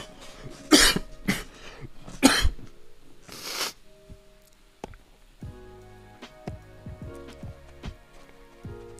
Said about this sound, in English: Maybe I should choke on a cough more often.